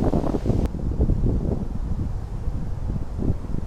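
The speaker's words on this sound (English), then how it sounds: "It's a bit windy" Gusty wind buffets the microphone outdoors, a steady low rumble with loud swells and brief dips, no voices over it.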